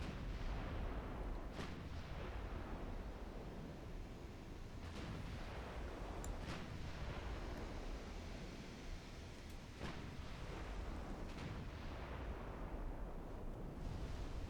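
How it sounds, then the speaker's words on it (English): In the naval game Ultimate Admiral Dreadnoughts, 20-inch warship guns boom repeatedly amid constant rumbling battle noise, several heavy blasts spaced seconds apart, quiet overall and without talk. "them 20-inch guns sound mean"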